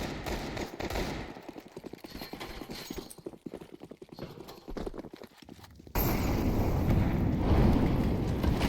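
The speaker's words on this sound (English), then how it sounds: "Falcons coming through with the SMGs in the hands of Madden and Snappy. Lots of grenades being tossed outside." Rapid SMG gunfire in a Counter-Strike 2 esports match, fast dense bursts of shots near and mid-distance, then a sudden louder wash of noise like a grenade blast filling the last few seconds.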